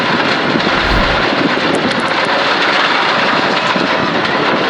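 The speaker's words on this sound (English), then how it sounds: "It's not revving out, is it? No, it's got no power." Rally car engine struggling under load and failing to rev out, lacking power, a loud continuous drone with heavy wind buffeting from an in-car or onboard microphone, no talk heard.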